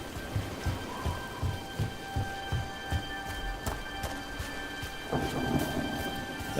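Steady rain and rolling thunder in a stormy outdoor scene from Dragon Age The Veilguard, with a constant wet hiss, deep rumbles and a regular thudding rhythm like footsteps underneath.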